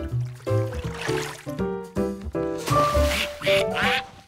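Cartoon ducks quack repeatedly near a pond, a lively run of nasal honks in quick bursts, close and clear, some overlapping one another.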